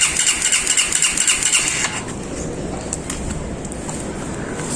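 A motorcycle engine runs roughly with a pulsing, sputtering beat, then drops into a steadier, weaker rumble, as if failing to catch and keep going.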